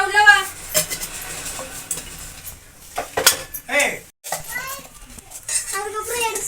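Spices such as cinnamon and cloves are stirred in hot oil in a pressure cooker, with scraping and clinking utensil sounds and light sizzling, mixed under near continuous talking and a voice.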